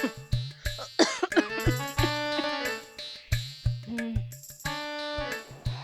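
Repeated harsh coughing fits in a Marathi comedy skit, a run of short, loud, rasping bursts with voiced, throaty tails, coming close together over several seconds with no talk.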